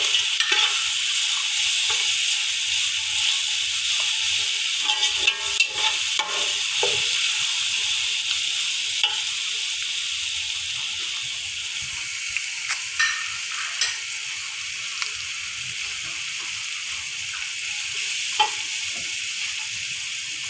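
Spices for Lahori chicken pulao fry in a pan with a steady, close hissing sizzle lasting the whole time, broken by occasional ladle scrapes and small crackles, with no talking.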